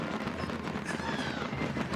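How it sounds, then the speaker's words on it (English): Fireworks boom and crackle continuously at a distance during a long Friday night show in the Village of Rosemont, a dense rumbling wash of bursts with crowd noise and voices mixed in. "This is the most extensive fireworks I've ever experienced in my life."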